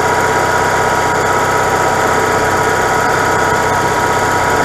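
An RV generator engine that had sat unused for months runs steadily at a constant idle, a loud, even drone with no talking over it.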